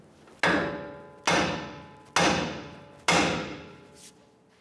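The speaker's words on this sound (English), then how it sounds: "we're going to use our hammer and we're going to strike this part of our knuckle" A hammer strikes the steering knuckle of a 2011-2018 Ram 1500 four times in a steady rhythm, each a loud, close metallic bang with a ringing decay, then a faint fifth tap.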